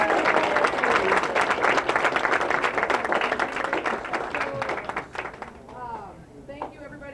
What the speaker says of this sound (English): Let's give our seniors a big round of applause.